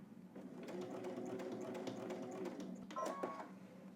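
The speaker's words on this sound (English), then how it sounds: "we're going to not back stitch, we're just gonna completely sew off your fabric" A sewing machine runs steadily, sewing straight off the end of the fabric without a backstitch, its motor hum continuous for a few seconds before a brief clicking shift near the end.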